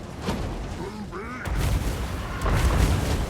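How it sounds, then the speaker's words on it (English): A fireball spell strikes Goblin Archers in a Warhammer battle game, landing as heavy booming impacts amid ongoing battle noise, with a brief whistling tone before the first blast and a second boom about a second later. "they're casting a fireball on our Goblin Archers"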